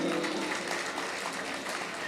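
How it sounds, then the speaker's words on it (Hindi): Audience applause at an Urdu poetry gathering, a brief, even patter of clapping that stays moderately loud and steady from start to finish. "एक बार तालियां बजा के इजाजत दें"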